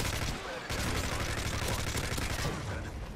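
Dense, sustained automatic gunfire in the video game Call of Duty: Modern Warfare 3 (MW3), loud rapid bursts rattling almost continuously with a short gap near the start.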